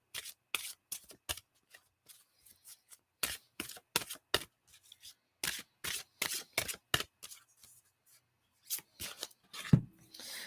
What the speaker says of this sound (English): we're going to pull an angel guidance card here.